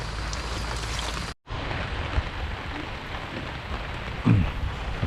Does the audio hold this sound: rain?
yes